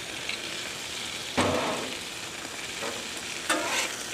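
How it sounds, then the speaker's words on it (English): Artisan brats sizzle on a 36-inch Camp Chef Gridiron griddle in a constant close hiss, with two brief louder bursts of spitting partway through and no talking. "It then came out here and got a nice little tan on this 36-inch Camp Chef Gridiron"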